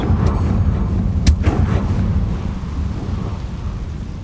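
A blasting spell going off in a Harry Potter video game: one sharp crack followed by a rumbling, thunder-like roll that fades slowly, loud and close, with no talking.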